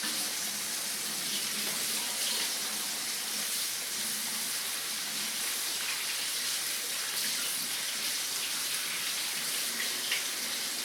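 Hands are rinsed under a running kitchen tap while cooking stuffed chicken. The water makes an even, continuous splashing hiss from start to finish, fairly close and with no voices.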